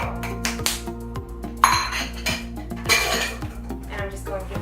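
Sliced zucchini tossed with cinnamon and erythritol in a bowl, heard as a few short clinks and scraping knocks against the dish, close and fairly quiet, with background music.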